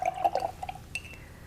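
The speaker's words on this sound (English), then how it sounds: "So dip your brush in water," A paintbrush dipped into a water pot for watercolor painting gives a few soft clinks and light drips, quiet and brief with no talk.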